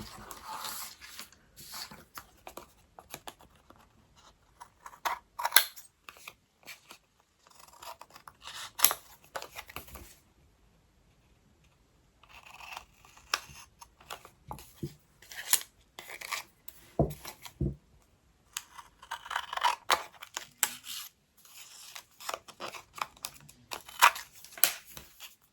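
Scissors snip and cut through paper while journaling cards are made, bursts of crisp cutting and rustling handling sounds with quiet pauses between, close and moderately faint.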